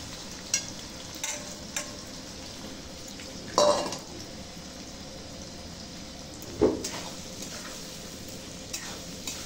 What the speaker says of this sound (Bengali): গোবিন্দভোগ চালটাকে একটু ভেজে নিই।